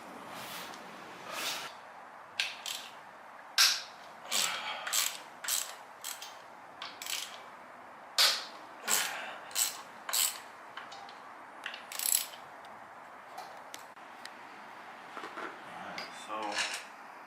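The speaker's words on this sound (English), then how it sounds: "So we'll remove the starter bolts" Ratchet working on starter bolts of a motorcycle inner primary, repeated clicking bursts in irregular runs with short pauses, close and fairly crisp, plus occasional metallic clinks.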